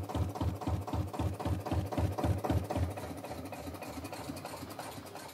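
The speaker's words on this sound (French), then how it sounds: "Et on entend le moteur s'arrêter naturellement." A looped motor sound effect played back on an audio player for a stage show, chugging in a steady rapid rhythm for about three seconds, then cutting off and leaving only a faint low hum.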